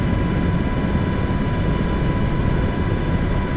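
A helicopter flies over the Giza pyramids, heard as a loud, steady, close rotor and engine roar that continues unbroken with no talk.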